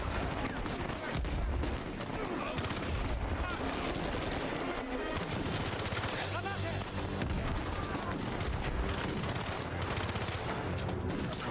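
Continuous gunfire and grenade blasts in the action game Uncharted 4, a dense, loud, unbroken barrage from start to finish with a German-speaking player talking over it at times.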